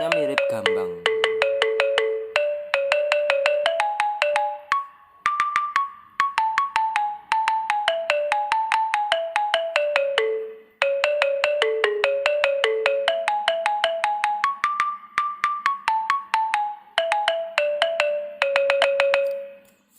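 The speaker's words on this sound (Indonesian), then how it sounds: "Ya, suaranya mirip gambang." A virtual Javanese gamelan app plays gambang-like tones, with rapid, evenly struck bright melodic notes stepping up and down in continuous runs, clear and close, with only brief pauses between phrases.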